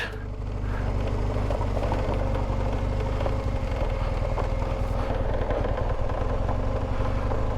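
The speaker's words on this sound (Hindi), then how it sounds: "मैं फर्स्ट गियर के अंदर बाकायदा ब्रेक इम्प्लीमेंट करके फिर मैं इसको मूव कर रहा हूँ" A heavy touring motorcycle creeps downhill in first gear with the brakes applied, its engine a steady, close, loud rumble with rattling clatter throughout and no talk over it.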